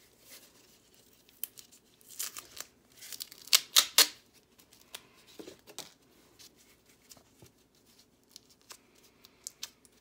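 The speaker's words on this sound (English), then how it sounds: "I actually first remove the duct tape from" Duct tape being peeled off the bottom of a cardboard tube mold for homemade sidewalk chalk, heard as a few close tearing rips and crinkles separated by quiet gaps, with no talking.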